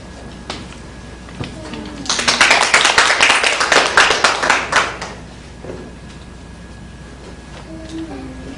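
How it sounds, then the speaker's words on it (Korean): A church congregation claps to welcome a brother coming forward to sing a special hymn of praise: a dense burst of applause that lasts about three seconds and then fades, with some speech before and after it. "우리 박수로 환영하겠습니다."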